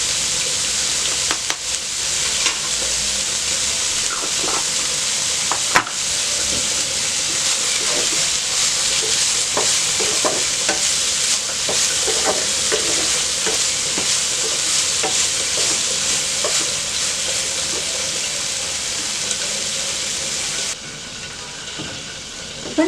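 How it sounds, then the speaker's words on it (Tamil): Broccoli and chicken stir-fry in a pan with a continuous loud sizzle and hiss. Scattered stirring clatters run through it for over twenty seconds, close up with no talking. "இப்போ நல்லா ஃப்ரை ஆகிடுச்சு."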